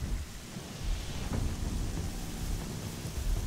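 Continuous steady rain from the video game Horizon Zero Dawn, a dense broadband wash with low rumbling underneath, heard alone without speech throughout.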